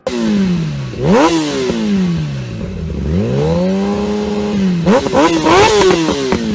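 A Kawasaki motorcycle engine revving hard in a sound check, repeated throttle blips climbing and falling in pitch, loud and close, with a rough idle between revs.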